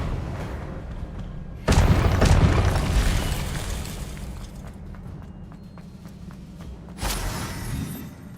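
The Expelliarmus spell is cast in the Hogwarts Legacy video game, two booming magical blasts with a crackling burst, the first strong and decaying slowly, the second shorter, over a low rumbling game background.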